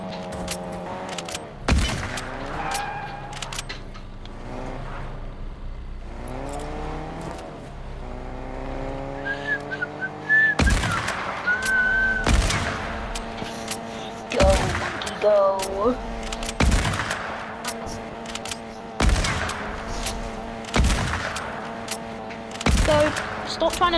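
Gunfire in a car-combat video game, sharp shots cracking out irregularly over revving engines and game music, with excited voices talking throughout.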